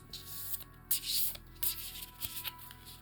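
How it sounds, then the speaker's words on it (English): Fresh, stiff oracle cards are shuffled softly up close, with quiet irregular rubbing and riffling strokes and small taps, hushed and intimate with no talk. "when they're fresh. They don't shuffle as easy."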